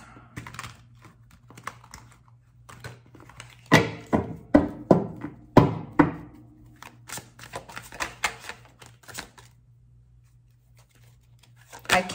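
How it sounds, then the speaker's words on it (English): A burst of quick, crisp riffles and clicks from shuffling oversized cards, scattered taps and flutters, with quiet pauses between attempts; no talking. "I can't shuffle these cards for the life of me."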